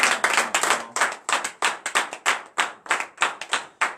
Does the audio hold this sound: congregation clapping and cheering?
yes